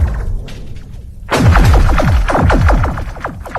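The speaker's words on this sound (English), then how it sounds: "the sound of the ice breaking is enormously loud." Ice on frozen Lake Baikal cracks beneath a skater, a sudden loud burst after a quiet start that becomes a rapid series of descending, laser-like zinging pings ringing out close for about two seconds.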